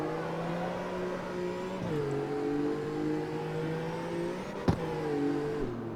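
Engine of a BMW driven in CarX Street on sport tires, a steady rising drone that drops in pitch at each gear shift, loud and continuous with a brief knock near the end and no talking.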